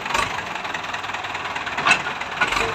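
A farm tractor engine runs steadily at close range while it is shifted into low reverse gear, with a rough, knocking mechanical rumble that swells briefly about two-thirds of the way through.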